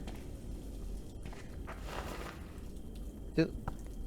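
Faint, soft footsteps scuff over a hard surface against a low background rumble, ending with a sharper single thud near the end.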